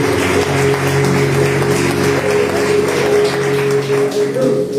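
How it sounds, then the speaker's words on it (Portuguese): A church congregation applauds in steady, dense clapping over a sustained keyboard chord, filling the room without pause. "Pode aplaudir o Senhor, glória a Jesus"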